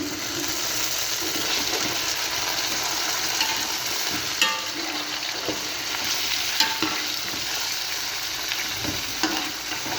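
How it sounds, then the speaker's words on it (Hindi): Chicken pieces frying with golden-browned onions in a pot for a traditional Chicken Sobat of Dera Ismail Khan, an even loud sizzle with repeated scraping stirs and occasional spoon knocks against the pot, no speech. "चिकन को हमने अच्छे से भून लेना है।"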